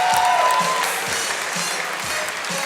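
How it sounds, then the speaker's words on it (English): A crowd applauds a third-place finisher at the QuakeCon 2006 Quake 4 championship, a dense loud wash of clapping that holds steady throughout. "Let's give a big round of applause."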